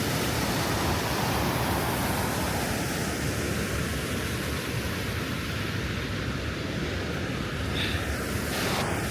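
River water rushing strongly in a mountain valley in Hakkari, a steady loud broadband roar that stays even throughout, with no voices.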